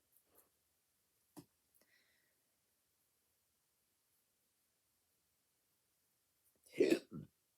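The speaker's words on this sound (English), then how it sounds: "Sorry, I had the hiccup there" A single sharp hiccup bursts out near the end after mostly near-silence broken by a couple of tiny clicks and a short throat sound.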